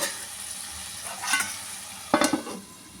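Tomatoes for an egg curry cook down in a pan with steady frying sizzle, broken by two bursts of stirring scrapes near the middle and end, close and moderately loud, with no voices.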